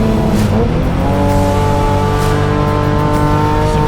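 BMW M-Performance race cars on a track, several engines howling loudly at close range with steady high revs, a shifting pitch and passing surges, and no voices over them.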